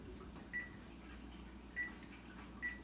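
Three short, faint electronic beeps from an oven timer being set to 30 minutes in a home kitchen, evenly spaced over a low steady hum, with no talking.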